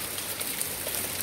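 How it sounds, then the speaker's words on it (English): Small round hailstones fall outdoors in spring onto a deck, a steady dense patter like heavy rain hitting hard surfaces, close and continuous with no voices. "Tawag dito hail"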